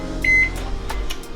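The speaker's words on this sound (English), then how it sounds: "bring it to the lovely microwave over here" A microwave oven runs with a steady low hum, a single beep sounding early over the close, continuous drone.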